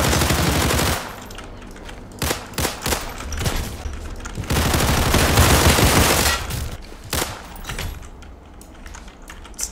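Rapid bursts of gunfire from a G18 pistol in the online game Criminality, loud, dense and continuous for most of the stretch with short breaks, and no talking over it.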